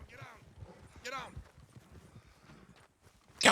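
Horse hooves clip-clopping in a western roleplay video game, a quick run of hoofbeats under overlapping talk and a whinny-like call, ending in a loud burst of noise.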